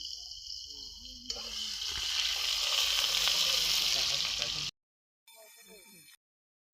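Onions fry in hot oil for a meat dish, a loud, steady sizzle that builds and holds for several seconds, stops abruptly, then briefly returns more quietly.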